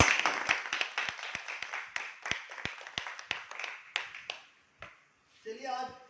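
Audience at a company meeting breaks into brisk, fairly close clapping for several seconds, then it dies away and a voice begins speaking near the end.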